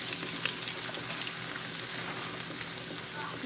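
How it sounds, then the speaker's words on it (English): Garlic and onions frying in a pan for ramen, a steady quiet sizzle with faint crackles and pops, close by and continuous with no talk. "the garlic and the onions cooking"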